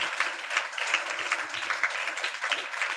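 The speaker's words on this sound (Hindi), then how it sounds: "एक बार ताली बजाओ, महिमा करो प्रभु की।" A congregation at a Sunday church meeting claps together in a steady rhythmic beat, sharp and fairly even throughout, with no speech over it.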